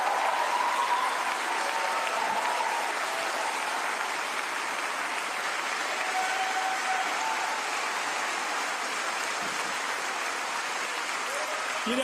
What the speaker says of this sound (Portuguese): Escutamos muitos aplausos na plateia